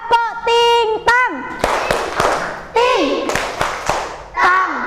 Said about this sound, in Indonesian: ajak bertepuk tangan, tepuk ting-tong